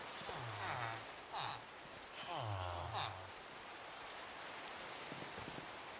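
Steady video-game rain patters evenly throughout, with a few low, game-like tonal chimes and blips rising over it early on.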